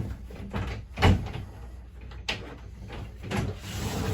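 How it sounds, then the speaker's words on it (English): Cabinet doors in a 2022 Wildwood 42FLDL fiberglass RV give four soft, separate knocks and latch clicks as they open and close, the clearest near the start, in a quiet interior without talking. "then you can open and close your doors"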